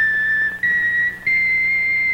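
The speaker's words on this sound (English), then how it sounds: "Each whistle plays 3 notes." A Trix Rabbit toy whistle sounds three sustained notes in a row, each pitched a little higher than the one before, loud and close with no talk.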